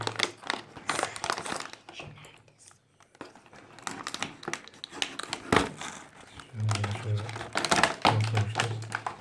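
Plastic packaging of imitation Minecraft toy figures being opened close up, with crinkling, tearing and taps in irregular bursts, while a person talks at intervals throughout.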